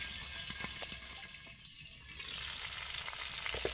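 Tangra fish fry in hot oil while being pressed down in the pan, giving a continuous close sizzle that dips briefly, then swells louder again.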